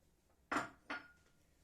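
A plate is picked up in a home kitchen while banyolu börek is being made, giving two quick ceramic clinks close together. Both are quiet, with a faint room hush around them and no speech.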